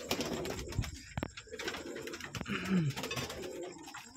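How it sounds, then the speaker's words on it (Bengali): A dove coos among pigeons kept on a hobby pigeon farm, its low repeated calls mixed with scattered clatter and movement nearby, with no talking. "আমার ঘুঘু পাখি"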